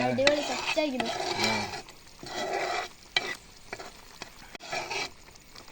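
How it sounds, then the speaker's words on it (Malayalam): A spoon stirs spice powder in a sizzling pan for Kerala-style puli, breaking up the lumps with scraping strokes over steady frying hiss, while a voice talks briefly near the start. "ഈ കട്ട ഒന്ന് ഉടച്ചു കൊടുക്കണം"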